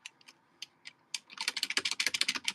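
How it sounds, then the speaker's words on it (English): Computer keyboard keys slapped hard during drawing: a few scattered clicks at first, then a fast, dense burst of loud clacking strokes, close and dry, with no voices. "They all like hearing those keyboard slaps."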